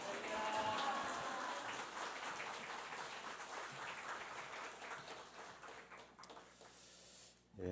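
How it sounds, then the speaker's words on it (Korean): A church congregation applauds to welcome a pastor at a Sunday service, starting as a full, dense wash of clapping that gradually thins and fades away toward the end. "우리 목사님 큰 소리로 할렐루야로 박수하면서 맞이하면 좋을 것 같습니다"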